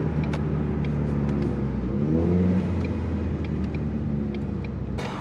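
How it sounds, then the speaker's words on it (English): Ford EcoBoost engine with a 10R80 transmission revving under steady rumbling load, a continuous close engine drone with faint whirring and light hiss-like blow-off bursts over the top, no talking. "All the blow-off noises."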